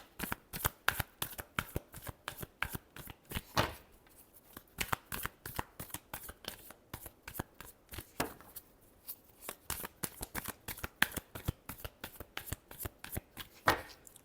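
Tarot cards are shuffled by hand in a quick, crisp run of riffling bursts, close and steady over about fourteen seconds with only brief pauses, no voice over them.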